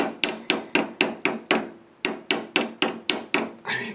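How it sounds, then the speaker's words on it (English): A body hammer taps metal tabs on a 1988 Jeep XJ radiator: two runs of sharp, evenly spaced strikes at close range, about four per second, with a brief pause between the runs. "You should use a body dolly or body hammer if you got one. Tap these in."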